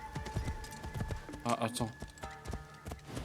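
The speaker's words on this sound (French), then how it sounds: "Ah, c'est le cheval." Horse hooves clip-clop in a steady trotting rhythm in a video game. A voice talks over them in French.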